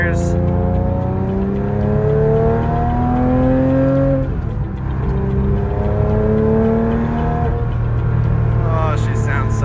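A Porsche Cayman S (987.1) engine, not fully warm, climbs in pitch, drops at a gear change below 3,000 RPM and climbs again, heard loud and close from inside the car without talking.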